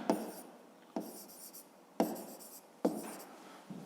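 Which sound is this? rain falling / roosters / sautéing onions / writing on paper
writing on paper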